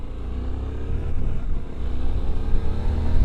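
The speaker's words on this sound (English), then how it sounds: "I'm riding it like it's my own bike." A Suzuki 800 V-Strom motorcycle engine hums steadily while riding, a loud, continuous low drone with wind rush and no voices over it.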